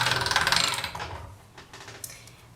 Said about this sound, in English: So now I'll take this and I'll pop it through my pasta machine on the thickest setting.